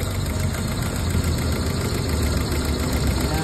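A car engine with no compression in cylinders 1 and 4 idles rough and shaky from a misfire, a steady close rumble with uneven knocking pulses throughout and no talk.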